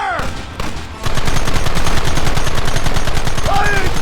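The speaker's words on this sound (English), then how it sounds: "There they are! Open fire!" Gunfire in the Red Dead Redemption video game, a loud rapid barrage of shots erupting after a brief lead-in and continuing densely, with voices shouting over the shooting at the start and end.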